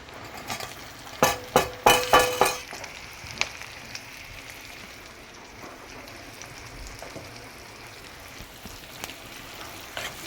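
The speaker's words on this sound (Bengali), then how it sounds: "এইটার সাথেই এখন আমি তেলে দিয়ে দেব আমাদের কাটা রাখা পেঁয়াজ" Chopped onions go into hot oil in a home kitchen, giving a few sharp crackles and spits at first, then a steady soft sizzle that carries on underneath with occasional small pops.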